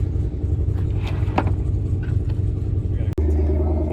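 A GT4 race car pulls out onto the Pacific Raceway track with a low rumbling engine and shifting revs, close by, over background voices and a sharp knock near the end.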